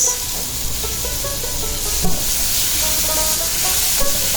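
Chopped tomatoes, ginger paste and masalas frying in a pot, a loud broad hiss of sizzling oil running throughout with occasional soft knocks of a stirring spoon.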